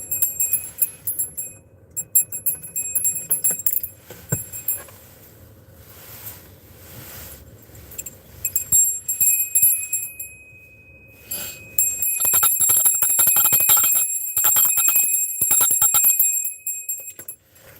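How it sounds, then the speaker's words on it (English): A bell rung during an energy-clearing ritual, sounding in bright, shimmering bursts with gaps between, growing denser and more continuous toward the end, close and fairly loud. "I apologize if that bell ringing might have been loud, but we are shifting and clearing the energy"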